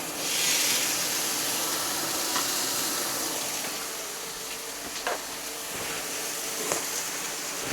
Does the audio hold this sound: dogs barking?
no